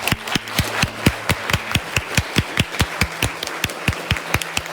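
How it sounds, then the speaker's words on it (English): An audience at a 9th grade honors day program claps for the students, giving sharp, evenly spaced claps in a steady rhythm that stay close and crisp throughout. "let's give our students one last round of applause"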